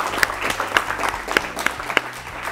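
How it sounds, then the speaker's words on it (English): An audience claps steadily for four teams at a PCRA Saksham 2018 West Zone quiz in a hall, dense applause with a few sharper claps standing out across the burst. "request all of you in the audience to clap for all the 4 teams"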